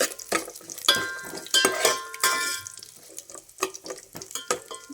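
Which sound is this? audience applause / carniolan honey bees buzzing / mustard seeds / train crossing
mustard seeds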